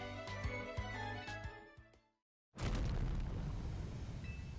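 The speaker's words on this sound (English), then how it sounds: "Big explosion." A big explosion in the Pokémon Legends Z-A video game: a deep, loud boom after a short silence, then a heavy rumbling roar that follows a stretch of game music.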